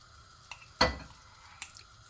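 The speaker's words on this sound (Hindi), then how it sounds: "और 1 कप घी डाल देंगे" Ghee poured into a hot pan for halwa makes one short, sharp splash-hiss, followed by a few faint ticks and crackles in an otherwise quiet kitchen.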